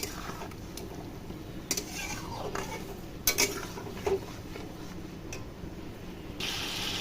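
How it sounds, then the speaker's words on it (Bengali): Chicken with spices being stirred in a kadai, a quiet background hiss with a few sharp clinks and scrapes of a spoon against the metal pan. "চলো মশলার সাথে মাংসটা এবার খুব ভালো করে কষিয়ে নিই।"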